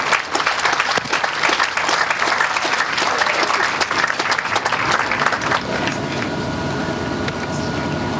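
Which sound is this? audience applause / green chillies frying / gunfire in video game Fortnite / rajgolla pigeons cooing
audience applause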